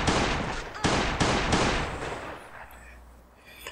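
Gunfire in the video game Last Day On Earth: a few loud, close bursts of shots in quick succession, then the sound tails off into a quieter background.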